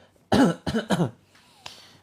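Three harsh coughs come in quick succession, close and loud, followed by a softer fourth cough after a pause.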